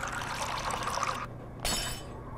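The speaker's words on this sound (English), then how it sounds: "you can pour it in there" Liquid pours in a PlayStation VR game, a steady splashing stream that breaks off, then a bright glassy burst of pouring or shattering returns near the end.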